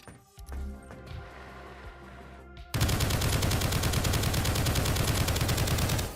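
Assault rifle fire in a video game erupts after a quieter stretch, a rapid sustained automatic burst with evenly spaced loud cracks continuing without pause.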